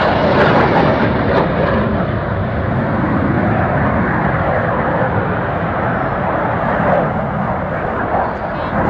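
Red Arrows jets flying the Cyclone to Slingshot manoeuvre at the 2009 Perth airshow in Scotland, a loud sustained roar of jet engines that swells and holds steady throughout.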